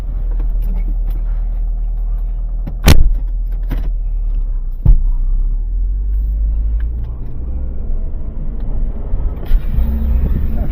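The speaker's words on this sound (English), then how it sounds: "Alright, let's take this Nissan Altima for a ride." A Nissan Altima on a test drive gives off a steady low engine and road rumble heard from inside the cabin, broken by two sharp clicks or thumps.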